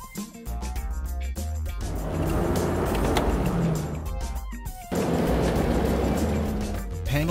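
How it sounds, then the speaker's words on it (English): Engine and tyre noise from a pickup truck driving fills the middle of the clip, a loud continuous rumble laid over background music that drops away before returning near the end. "Pickup truck."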